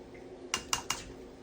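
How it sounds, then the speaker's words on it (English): Chopped tomatoes tipped into a clean bowl, three quick close clacks of a utensil or board edge against the bowl, with nothing else in between. "Now I'm going to dump it into a clean bowl."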